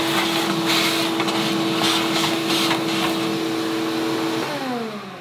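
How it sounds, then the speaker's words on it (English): A vacuum cleaner sucks up debris from an Englander pellet stove, droning loudly and steadily with faint rattles of particles going up the hose, then its motor winds down near the end. "And then vacuum this up."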